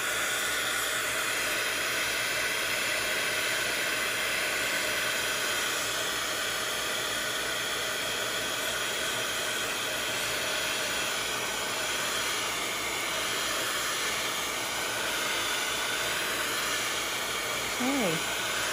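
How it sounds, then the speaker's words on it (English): A heat gun blows hot air steadily across distress ink on a watercolor paper background, a loud, continuous broadband whoosh that runs unbroken from start to finish. "I'm going to move this out of frame and then heat it with the heat gun one more"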